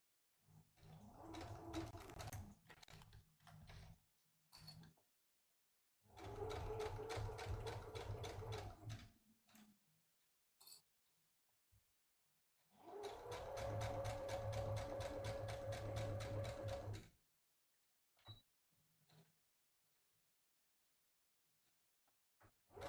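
A domestic sewing machine stitches a box seam on a drawstring project bag in three separate bursts of steady, rapid needle clatter, with quiet handling clicks and fabric rustle between runs.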